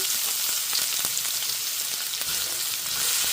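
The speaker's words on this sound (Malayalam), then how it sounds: "ഇനി ചെറുതായിട്ടൊന്ന് വഴറ്റിയെടുക്കണം" Chopped shallots, garlic and green chillies sauté in oil, giving a continuous crackling sizzle with scattered pops and no voices.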